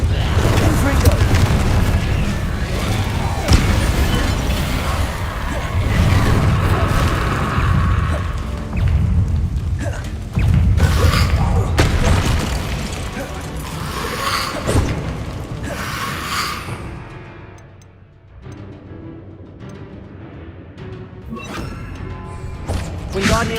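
Spell blasts and explosions from Hogwarts Legacy on PS5: heavy booms and crashing impacts over a dense roar, loud and continuous before easing toward the end, with voices shouting over the action.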